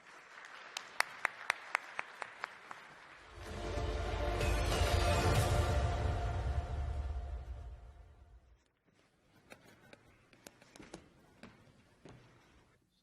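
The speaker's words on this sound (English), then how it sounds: "Please welcome him with a big round of applause." Scattered claps open, then a launch-event audience bursts into full applause for a guest taking the stage, swelling for about five seconds before thinning back to sparse individual claps.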